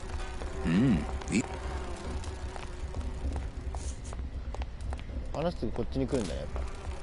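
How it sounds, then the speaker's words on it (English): Bees buzz in the Grim Fandango video game, a droning hum that runs throughout beneath character speech and voices that come and go over it. "These bees don't seem too busy."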